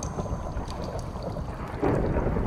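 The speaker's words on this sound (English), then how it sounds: "The thunder is so loud." Thunder in the video game Minecraft rolls as a loud, continuous low rumble that swells further toward the end, with no voices over it.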